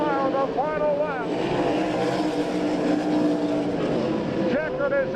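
Sprint cars at the All Star Circuit of Champions race in Abbottstown, PA, roar past together on the final lap, engines whining and shifting pitch as they go by, with a track announcer talking over the noise.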